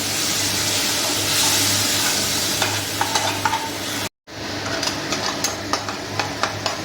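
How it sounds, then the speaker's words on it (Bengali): Spices for palak paneer stirred and fried in a pan, a steady sizzle broken by sharp scraping clicks of the spoon, with a brief cut partway through and no talking. "এগুলোকে নেড়ে চেড়ে একটু ভেজে নেব।"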